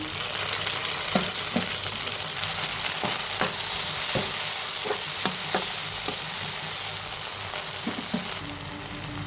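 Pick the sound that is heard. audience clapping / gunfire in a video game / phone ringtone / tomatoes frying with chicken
tomatoes frying with chicken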